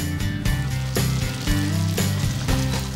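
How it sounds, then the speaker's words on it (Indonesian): Donut balls fry in hot oil, giving a loud, continuous sizzle and crackle close up with no talking. "goreng donat sambil dibolak-balik"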